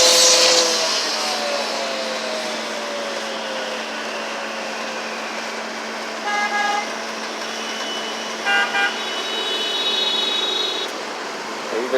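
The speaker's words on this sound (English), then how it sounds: "Everybody starts beeping the horn because the traffic's not moving fast enough." City traffic in Boston idles with a steady engine drone while impatient drivers sound car horns, several short toots and a few longer honks of different pitches popping out near and far over the rumble.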